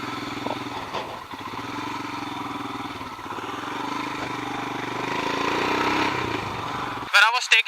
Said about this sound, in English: as soon as you start the bike, the first thing is the grunt and the exhaust note of this bike